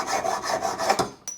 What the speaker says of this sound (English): you can reach for a trusty hacksaw. Time to cut these off.